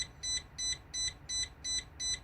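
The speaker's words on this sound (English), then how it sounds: "That's your headlight warning." A bus headlight warning chimes in six evenly spaced, high electronic beeps, steady and moderately quiet inside the cab, with no one speaking.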